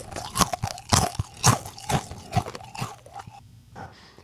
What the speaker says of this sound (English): Just listen to the crunch when you bite down on this delicious stuff